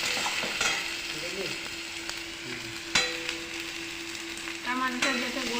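Cloves, garam masala and cardamom fry in hot oil with a loud, constant sizzle, broken by occasional stirring scrapes and light clinks, and no voices.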